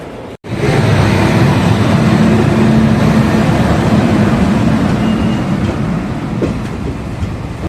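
The Vande Bharat express from Coimbatore to Chennai Central rushes past close by, a loud, steady rumble of wheels and carriages that starts abruptly and holds for several seconds before easing slightly.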